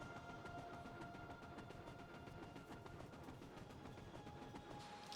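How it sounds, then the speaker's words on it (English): Game train from Factorio, a coal train with four cars, rolling steadily along its track with a continuous low rumble and faint clacking, plus a couple of thin steady tones above it; no talking. "Love to see the coal train working."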